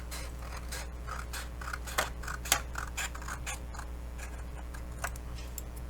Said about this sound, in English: then we're going to cut this part away.